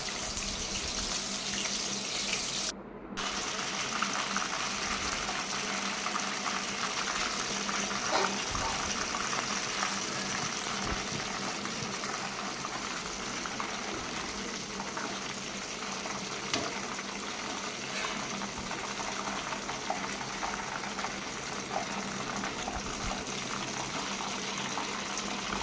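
Soya chunks deep-frying in well-heated oil for mealmaker 65, a steady, dense hiss and bubbling that runs unbroken at an even level, with a brief dropout near the start.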